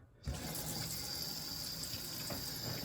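Cold tap water running steadily into a sink while apples are washed for pie filling: a continuous close hiss and splash that starts abruptly and carries on without talk.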